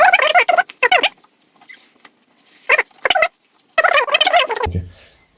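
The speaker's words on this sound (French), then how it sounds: "Donc je viens tourner ma microfibre pour éviter qu'il y ait du Rainix dessus. Et je viens essuyer." A microfibre cloth wipes a surface treated with Rainix rain repellent, producing several squeaky, rubbing bursts at close range with quiet pauses between them and a low thump at the end.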